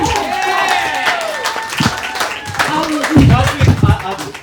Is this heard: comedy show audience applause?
yes